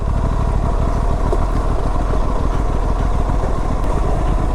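An RS 457 motorcycle rides off-road at about 45 km/h over a rough patch, its engine droning steadily and loud with a continuous rumble and rhythmic clatter, and no talking.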